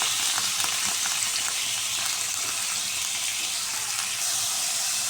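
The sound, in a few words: chicken frying in oil in a pan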